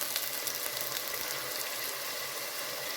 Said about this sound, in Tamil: சேர்த்து லைட்டாக வதக்கிட்டு, ரொம்ப சவக்கு வதக்கணுன்ற அவசியம் இல்லை, லேசாக வதக்கினா போதும்.